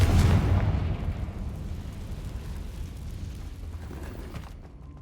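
A Confringo spell explosion in the video game Hogwarts Legacy: a loud, deep blast at the start, then a long rumbling decay that fades out over several seconds.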